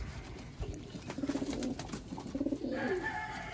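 Sialkoti pigeons coo in soft, throaty rolling bursts, two clear phrases close by, over faint background noise.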